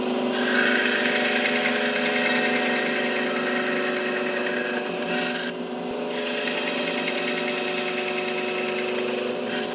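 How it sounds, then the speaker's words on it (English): A King Canada bandsaw hums steadily as it slices through walnut accent pieces, a continuous loud whine with a short shift in tone midway. "I can come over here to the King bandsaw"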